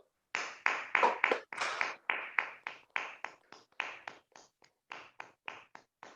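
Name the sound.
round of applause at a Toastmasters meeting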